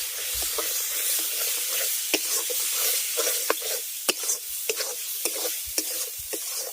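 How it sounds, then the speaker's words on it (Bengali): Chana dal and chopped banana flower stir-fried in a hot pan, a steady sizzle broken by repeated sharp scrapes and clicks of the spoon stirring at an irregular pace. "এবার ছোলার ডাল আর মোচাটাকে খুব ভালো করে আমি কষিয়ে নেবো প্রথমে"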